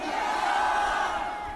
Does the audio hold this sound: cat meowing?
no